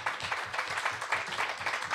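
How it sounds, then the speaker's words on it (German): A party conference audience claps after a speech, a short burst of rhythmic applause at moderate distance with quick, even hand claps. "Applaus"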